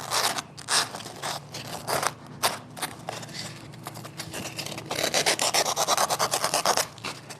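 Hand rasping to round over a wooden edge, a series of dry, scratchy strokes in uneven rhythm that grows denser and faster toward the end, close and fairly loud with no voices.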